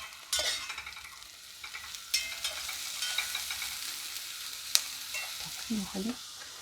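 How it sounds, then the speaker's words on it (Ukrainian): Onion and carrot sizzle and are stirred in a pan for plov, with a moderate frying hiss, scraping utensil strokes and a few light metallic clinks toward the end. "цибулька підсмажилась, додаємо моркву. Теж її, і, і теж її підрум'янюємо злегка"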